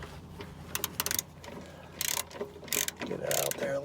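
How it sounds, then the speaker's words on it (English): A wrench ratchets to loosen a motor mount bolt on a Dodge Grand Caravan, with bursts of rapid clicking pawl ticks that come in short runs, close and clear. "And then we're going to use a wrench."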